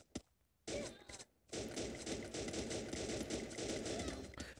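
Rapid bursts of automatic gunfire from the video game Free Fire, a brief shot followed by a pause and then a long sustained barrage of close, dense firing.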